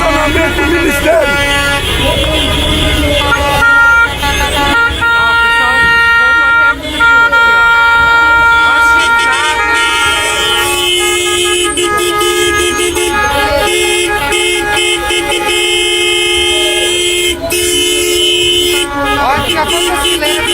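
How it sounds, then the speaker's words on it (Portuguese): A car parade fills a street in Brasília, with continuous honking from car, bus and truck horns layered over steady traffic noise and people talking throughout. "carreata aqui em Brasília"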